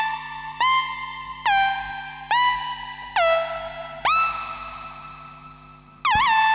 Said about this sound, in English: Synth 5, I'm going to go with an SH101,